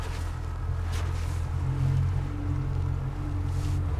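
A boat motoring out on a sea trial off Hawaii Kai in 2 to 4 foot choppy water, a steady low engine drone with faint wash and splashing, continuous and fairly close.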